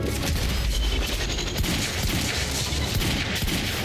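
Dense gunfire from the video game Quantum Break crackles in loud, rapid overlapping bursts, a continuous barrage of shots and booms filling the scene.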